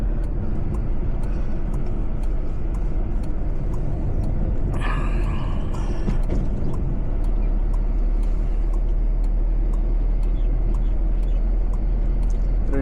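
Traffic moves along a hill road near Ooty with a few tourist vehicles, a steady low engine rumble and road noise close by throughout, with a brief higher passing sound midway.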